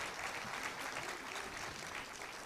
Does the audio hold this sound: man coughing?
no